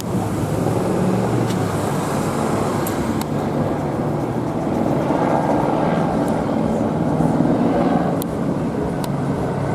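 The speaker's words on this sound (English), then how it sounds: "Like my helicopter approaching." A helicopter drones steadily overhead, its broad rumble holding at close, loud range for the whole stretch with a few faint sharp ticks on top and no voices.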